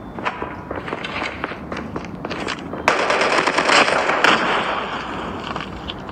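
Rapid automatic gunfire in Call of Duty cracks in loud, close bursts, growing denser and heavier midway, with footsteps and scuffling underneath.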